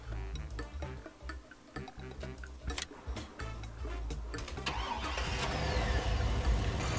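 A diesel vehicle in Farming Simulator 19 starting up: clicks and ticking, then the engine cranks and settles into a steady, rising mechanical rumble that grows louder toward the end, with no speech.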